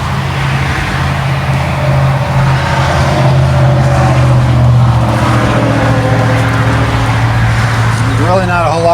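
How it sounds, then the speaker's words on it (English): A Caterpillar diesel engine idles loudly and close in a 2003 Ford F750 water truck, a steady low rumble that holds throughout, with a brief squeaky sound near the end. "This machine has a cat engine in it."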